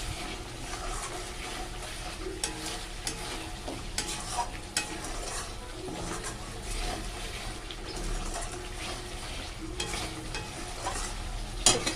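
Mustard-poppy paste masala for a katla and tilapia fish curry being sautéed in a pan, steady low sizzle under repeated spatula scrapes and clicks against the metal, close and moderately quiet, without talk.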